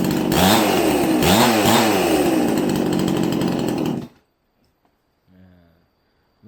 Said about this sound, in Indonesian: menjajal geraji guys, atau manasin geraji sebentar, nanti rencana mau tebang pohon